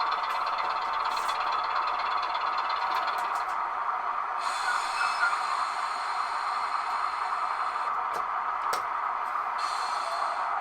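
Model railway locomotives and wagons run on a layout, making a steady whirring, hissing rumble that holds constant throughout, with faint ticks and clicks over it and no talk.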